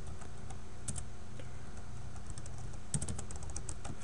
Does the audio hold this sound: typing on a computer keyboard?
yes